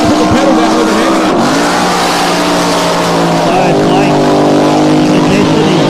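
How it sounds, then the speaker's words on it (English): A racing powerboat engine accelerates hard out of a corner during a practice session at Adelaide, a loud, continuous high-revving roar that rises in pitch, heard close and steady throughout. "So Blake, his boat sounds very, very strong"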